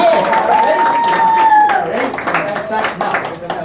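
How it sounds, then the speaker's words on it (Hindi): Guests clap at a child's fifth birthday party, a steady burst of applause from a crowd with voices and a sung or hummed tone over it. "Come on, guys, clap"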